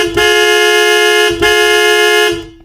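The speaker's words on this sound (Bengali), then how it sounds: "আওয়াজটা শুনে বুঝতে পারলাম এটা বাসের হর্নের আওয়াজ।" A bus horn blares in three loud, sustained honks with brief gaps between them, near and harsh, the last blast fading out.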